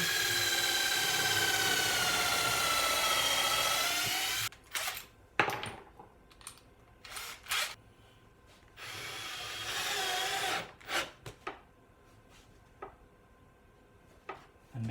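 A drill bores holes in wood for a homemade circular saw square: one long steady high whine, then a series of short bursts of drilling separated by quiet pauses, close and moderately loud.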